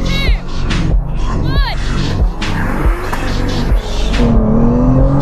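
A Tesla Plaid drag races a Nissan GTR over a standing quarter mile, with loud engine and motor roar, tyre squeal and sweeping pass-by whooshes close by, while excited voices shout over the noise.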